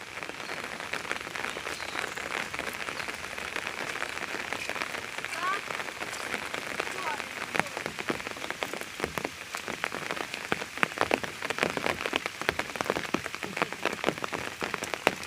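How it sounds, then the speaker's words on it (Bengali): Steady rain patters on the surface of a village fish pond, a dense continuous hiss of drops with occasional louder splashes, and a voice speaks faintly beneath it. "আজকে আবার বৃষ্টি পড়তেছে, দুদিন খুব গরম ছিল।"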